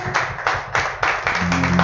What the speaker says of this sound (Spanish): Y gritarle tu mejor aplauso al Señor en esta tarde.